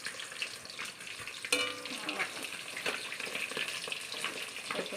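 Fish frying in a pan, two kilos of fish cooked at home, with steady crackling sizzle and occasional stirring scrapes, close and fairly loud without talk.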